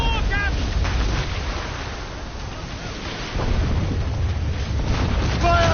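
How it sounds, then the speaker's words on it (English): Stormy wind and rough sea during a squall in the video game Assassin's Creed Rogue, a constant loud roaring rush of wind and surging waves, with brief high bird or rigging cries at the edges. "It's quite a rough squall, Captain."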